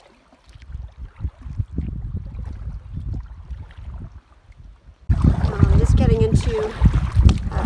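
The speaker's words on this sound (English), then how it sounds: "And wind is still gusting pretty good." Wind gusts over open lake water during a solo canoe trip in Temagami, Ontario, first as low rumbling buffeting and then as a louder, harsher roar against the microphone, with someone speaking briefly.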